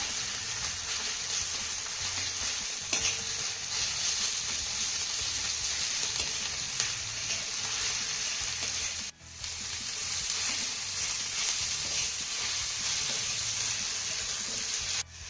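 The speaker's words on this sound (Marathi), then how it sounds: "हा भेंडीचा ठेचा आपल्याला दोन ते तीन मिनिटं चांगला परतून घ्यायचा आहे" Okra thecha, a coarse crushed roasted-okra relish, sautéing in a pan with a steady broadband sizzle that holds for the whole stretch, close and even, with one brief dip midway and no voices.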